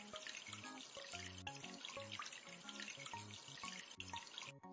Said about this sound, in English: Wash the bathtub.